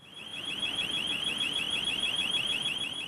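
A car-type alarm sounds during a nighttime burglary, a loud, steady electronic warble that repeats quickly and continuously. It stays close and alone with no voices.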